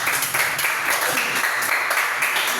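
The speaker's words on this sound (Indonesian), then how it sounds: "Tepuk tangan dulu" A seminar audience claps briefly after a question, a short burst of fairly dense applause at a moderate level.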